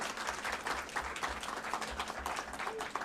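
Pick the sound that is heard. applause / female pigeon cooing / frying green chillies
applause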